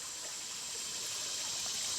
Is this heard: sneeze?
no